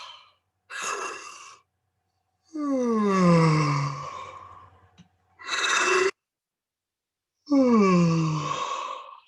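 Four long, loud breathy yawns with falling voiced sighs, each separated by silence, made as a throat-opening demonstration.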